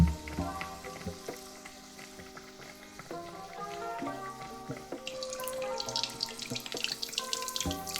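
Chicken sizzles and crackles steadily as it fries in oil at 350 degrees Fahrenheit, the spitting growing busier and brighter over time, with no voices.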